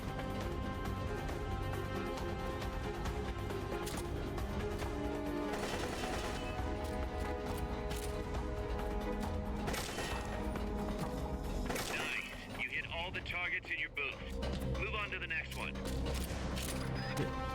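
Rapid gunfire with heavy recoil rattles in dense bursts in Metal Gear Solid Peace Walker, set in Costa Rica in 1974, layered over game music and effects and broken by brief pauses.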